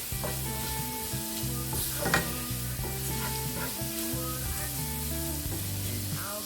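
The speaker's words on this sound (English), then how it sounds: "I'm just going to give this a mix, avoiding that garlic from burning" Garlic sizzles and fries steadily in a pan while being stirred, with scraping spoon sounds over the constant hiss, as the base for Madras tamarind fish is cooked.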